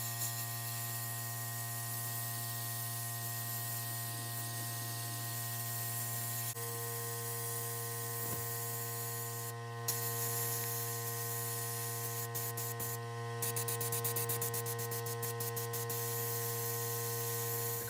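Sandblaster with glass beads stripping rust and paint from a vehicle underbody, a continuous loud hissing blast with steady hum underneath and brief interruptions and sputters.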